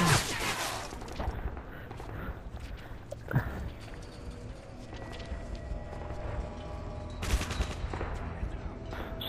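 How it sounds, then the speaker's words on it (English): Bursts of gunfire during a video game domination match, a sharp volley at the start and another later, with quieter shots and footstep-like clatter between, fairly close and loud. "I thought that was you shooting"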